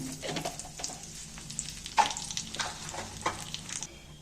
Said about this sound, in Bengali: তেলটার মধ্যে একটু গোটা জিরে দিয়ে দিন